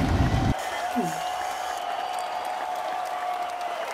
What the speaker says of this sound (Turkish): Beni mi alkışlıyorlar efendim?